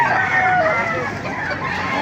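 Chickens cluck and call loudly at close range at a market in Baliuag, with a continuous noisy background of birds.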